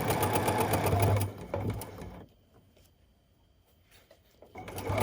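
A sewing machine stitches a seam on a fabric mask in a close, whirring burst that pauses near the middle, leaving near quiet before the motor starts up again.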